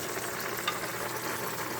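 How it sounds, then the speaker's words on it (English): Steady crackling sizzle of chicken frying in hot oil, close and fairly quiet, with no voices. "And you can actually hear the sizzling."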